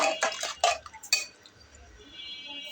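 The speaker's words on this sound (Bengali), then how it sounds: "এখন প্রেশার কুকারের ঢাকনাটা ঢেকে আমি এটা তিনটা সিটি পর্যন্ত অপেক্ষা করব" A metal pressure cooker lid is fitted and closed over mixed vegetables, making a quick run of sharp clanks and clinks in the first second before the sound fades to near quiet.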